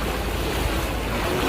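Steady water wash and rushing noise while riding a tour boat along the San Antonio Riverwalk in Texas, with constant wind-like turbulence filling the whole clip and no talking.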